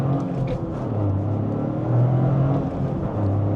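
The engine of a 2025 Subaru WRX tS hums and swells from inside the car, a low rumble that rises in pitch as the car accelerates, with a steady whir beneath.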